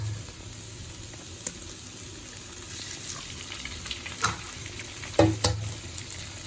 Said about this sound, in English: so we'll let the egg cook in the middle